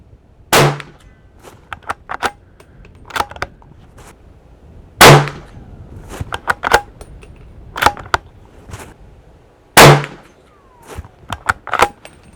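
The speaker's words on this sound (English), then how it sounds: "I'm gonna go ahead and get my 3-shot group with this guy at 50 yards." A CZ 527 American rifle in 300 Blackout firing Hornady 190 grain Sub X subsonic rounds at a 50 yard range: three sharp, fairly close shots spaced about four seconds apart, with faint clicks and handling noises between them.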